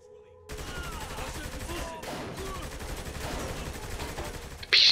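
Dense, sustained gunfire in the video game Saints Row 3, continuous rapid shooting and explosions filling the mix for several seconds, loud and close, with a louder burst at the very end.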